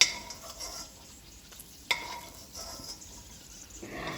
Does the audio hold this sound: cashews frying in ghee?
yes